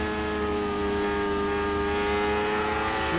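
A race car accelerates hard on the track at the 1999 Texaco/Havoline 200 race, its engine a loud, sustained high whine that holds steady throughout, with no voices.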